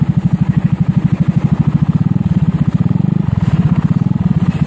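A Suzuki Skywave scooter fitted with a Yamaha NMAX exhaust runs close by, its single-cylinder engine thumping in a fast, even, loud pulse that briefly quickens partway through before settling back to a steady idle.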